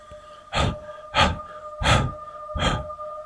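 Four sharp, heavy gasping breaths come evenly spaced about two-thirds of a second apart, close and loud, like someone panting in fear in a horror scene, with a faint steady hum underneath.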